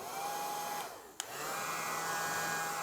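A small fan inside a toy bubble gun whirs steadily with a high electric hum, briefly cutting out before a click and then spinning back up to a constant, close drone with no talking.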